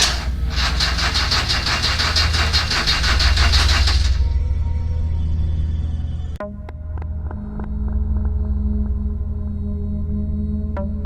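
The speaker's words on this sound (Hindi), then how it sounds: "अचानक उसकी कार के इंजन में कुछ खराबी आ गई और वो रुक गई।" A car engine breaking down in a Hindi horror story runs with a loud rough roar, sputters and cuts out, then a sharp clunk leads into a fading, ticking, eerie stillness with a low hum.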